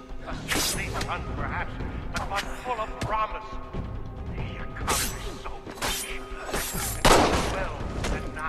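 Sharp gunshots and mechanical clanks ring out in a loud burst of Assassin's Creed III gameplay, with metallic impacts scattered across the scene and voices heard now and then.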